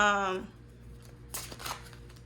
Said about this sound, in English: you gotta like separate each card and then shuffle it a few times